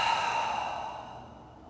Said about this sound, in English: Another deep breath in. And a deep exhale.